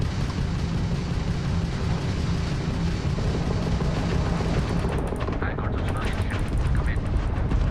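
Spaceship weapons firing during a ship battle in Starfield, a dense and continuous barrage of rapid blasts and rumbling impacts, loud and sustained, with a voice faintly under the din.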